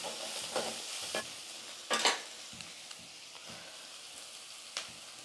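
A spoon stirs turmeric and asafoetida through hot oil in a pan, with repeated faint scrapes and clinks over a soft, steady sizzle.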